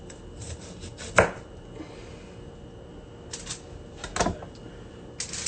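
A knife chops Brussels sprouts on a board in a few sharp, separate strikes, close and fairly quiet, with no talking.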